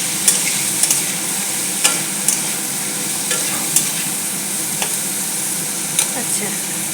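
Vegetables and beans sizzle in a frying pan while a utensil stirs them, tapping and scraping the pan at irregular moments over a steady close-up frying hiss.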